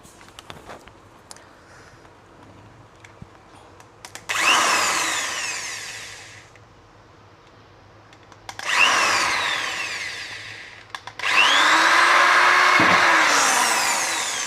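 Power drill boring holes for accessory bolts on a Hero Xpulse 210 motorcycle, three loud sustained whining runs separated by quieter pauses, close to the microphone.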